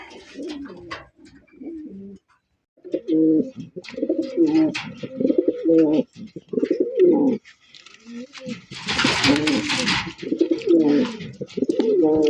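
A pair of Black Beauty pigeons coo in repeated low, throaty phrases, close by, with a brief rustle or flutter partway through.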